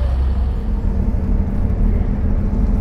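Loud classic car engine rumbling close by on the London to Brighton classic car run, a continuous deep throaty idle with slight fluctuations and no voices.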